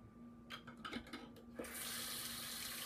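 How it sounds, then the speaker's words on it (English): Hot water from a shaving bowl is tipped into a sink after a few soft knocks and rubs, then runs in a steady, continuous rushing splash that carries on to the end, fairly quiet and close. "So I'm just going to dump that out."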